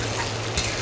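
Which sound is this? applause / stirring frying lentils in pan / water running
stirring frying lentils in pan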